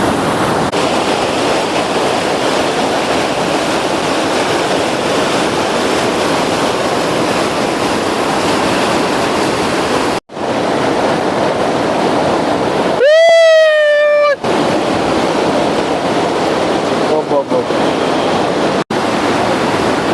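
A flooded village pond spills over its weir, giving a loud, steady roar of rushing water throughout, broken briefly by a few clicks and a short whistling tone.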